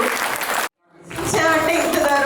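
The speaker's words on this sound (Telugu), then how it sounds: "ఆశ చెల్లి కోసం బిగ్ క్లాప్ అండి." A crowd at a school event at a resort in Guntur claps for a young girl after her speech; a cut breaks the sound, then loud, sustained clapping swells back in and continues to the end.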